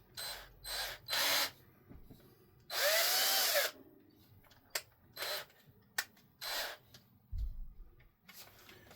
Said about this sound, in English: when you're drilling and tapping stuff, you're supposed to use a tap wrench. You're not supposed to use electric drill